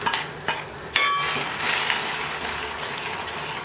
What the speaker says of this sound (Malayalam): നന്നായിട്ട് ഇളക്കുക. ഇളക്കി മിക്സ് ചെയ്യുക.